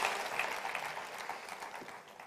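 A church congregation applauds with steady, bright clapping that tapers slightly toward the end.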